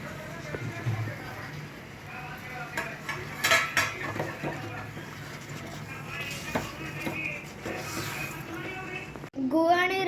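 Jaggery mixture being stirred in a pan while making Konkani jackfruit gharge, a steady run of spoon scrapes and clinks against metal, close and fairly quiet, with some background voices.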